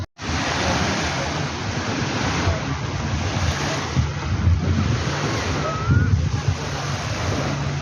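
Sea waves washing onto a fine sand beach, a constant broad roar of surf mixed with heavy wind buffeting the microphone, loud and close throughout.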